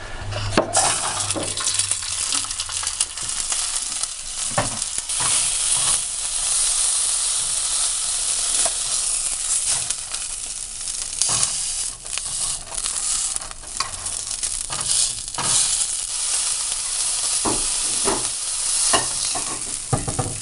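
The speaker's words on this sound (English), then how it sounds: "After that, it's time for the searing." Ahi tuna searing in a hot pan, a loud continuous sizzle and hiss with intermittent bursts of crackle and occasional pan scrapes, close up and without speech.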